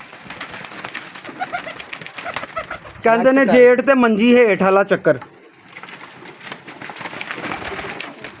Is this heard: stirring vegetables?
no